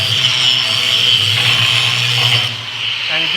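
A flap disc on an angle grinder grinds a metal edge flat, giving a steady loud abrasive whine that dips briefly near the end and stays close throughout.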